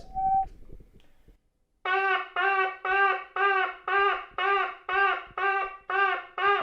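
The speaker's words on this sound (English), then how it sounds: "So a beginner should probably practice a trua like this." A shofar sounds a slow teruah, a string of short, evenly spaced blasts with a brassy buzz, about a dozen in a steady slow rhythm, after a brief pause.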